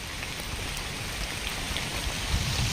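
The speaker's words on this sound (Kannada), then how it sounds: "ಮಳೆ ಇಷ್ಟೊತ್ತಿಗೆ ಸ್ಟಾರ್ಟ್ ಆಗಿದೆ" Heavy monsoon rain pours down in a constant, dense hiss of drops striking the ground, loud and unbroken throughout, with no voices.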